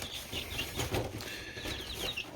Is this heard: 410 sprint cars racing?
no